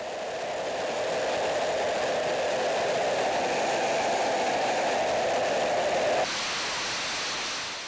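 Fighter jet engine roaring steadily in an engine test facility, a loud continuous broadband rush that holds for about six seconds before abruptly dropping to a softer, thinner hiss.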